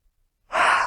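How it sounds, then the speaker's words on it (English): A person gives a long, open yawn during a meditative channeling session, a brief quiet breath first, then a loud, sustained breathy exhalation close to the mic. "This yawning is how I clear in the freedom release technique."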